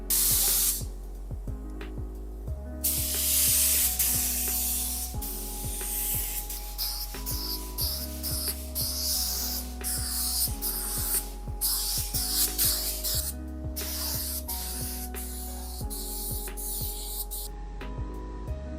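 A spray gun applying clear coat to a car, with repeated loud hissing bursts of spray separated by short pauses and a steady low music bed underneath throughout.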